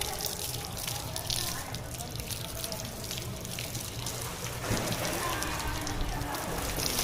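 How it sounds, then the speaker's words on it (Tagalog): Water from an outdoor shower at a beachfront resort pours steadily in a continuous splashing hiss, with a louder surge partway through and faint voices in the background. "Shower na tayo."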